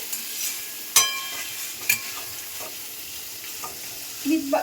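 Whole quail fry on low heat in oil, a soft steady sizzle with a few sharp clinks of a spoon against the pan.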